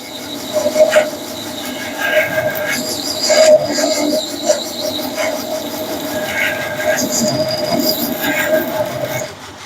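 A belt sander fitted with a coarse 40 grit belt grinds close by with a steady whine that swells and eases in surges as it works across the piece.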